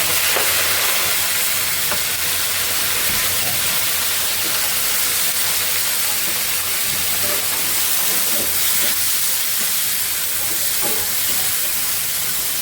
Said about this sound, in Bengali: পেঁয়াজ আর রসুন লাল লাল হয়ে গেছে আমি দিয়ে দিচ্ছি মাছের মাথা